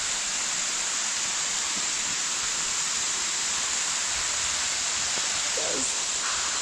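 A waterfall in a New York state park pours in a steady, broad rushing roar that fills the scene, with rain falling and a faint brief sound near the end.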